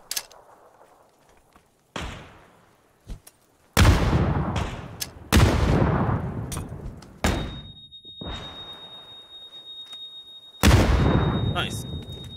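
Frag grenades and gunfire in PUBG produce a series of loud, booming blasts, each with a sharp onset and a rumbling tail, spaced irregularly over several seconds, with a few softer thuds between them.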